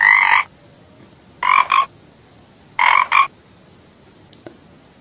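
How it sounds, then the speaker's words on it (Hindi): A frog croaks in three bursts, the first single and the next two as double croaks, loud and close against a quiet background. "मेंढक टरटराता है।"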